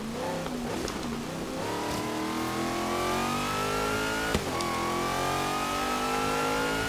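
A car in Forza Horizon 3 accelerates hard, its engine note climbing steadily in pitch through the gears with a brief dip at a shift, loud and continuous throughout.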